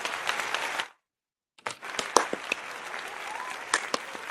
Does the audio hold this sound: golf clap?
yes